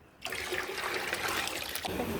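Water pours steadily for about two seconds from a vessel into rice flour for dough, a close, splashing rush that starts abruptly and trails off.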